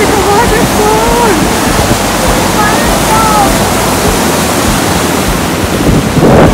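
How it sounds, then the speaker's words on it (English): Loud, continuous roar of a waterfall at Bells Rapids, close by and masking most else, with excited voices and wind buffeting on the microphone. "There's a two-way waterfall there!"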